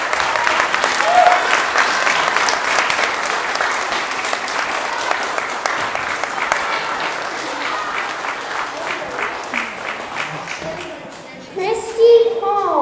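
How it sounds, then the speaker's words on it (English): Sustained applause from a seated crowd at a Cub Scout pack's Blue and Gold banquet crossover ceremony, steady dense clapping that fades near the end as children's voices and talk come through. "Scouts, please give them a round of applause."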